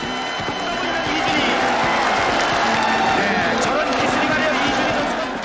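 A crowd at a ssireum wrestling match cheers loudly and steadily, with clapping and stamping under a commentator's talk.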